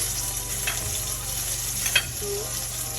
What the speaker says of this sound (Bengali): এখন দুই পাশে দুই দুই থেকে তিন মিনিট করে ফ্রাই করে নিলেই